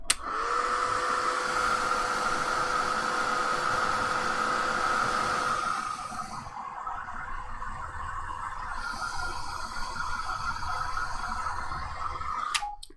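A heat tool runs steadily to dry ink or colour on a stamped image, a close, continuous blowing whir with a steady tone that dips briefly midway before shutting off with a click at the end.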